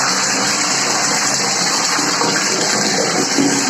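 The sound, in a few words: water filling a bucket in the bathroom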